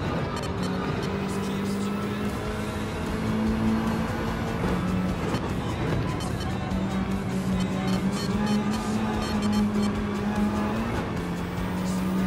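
A race car engine in Gran Turismo 7, driven with a controller and manual gears on a technical track, drones steadily throughout, its pitch stepping up and dropping with gear shifts and a faint tire squeal.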